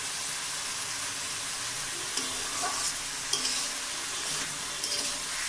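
Onions, green chillies and spices frying in a pan with a splash of water, for a chicken and potato curry: a steady, close hiss of sizzling, with a few soft scrapes and clinks of stirring.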